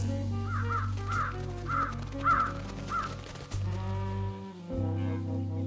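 Crows cawing in the video game Trüberbrook, five distinct caws in an evenly spaced run over a steady low game ambience and music, followed by softer background tones.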